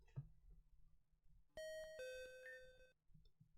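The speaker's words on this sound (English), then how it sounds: "The doorbell." A doorbell chimes in the Pokemon Rejuvenation game, a clear two-note ding-dong ringing out bright and loud over quiet background music, then fading away.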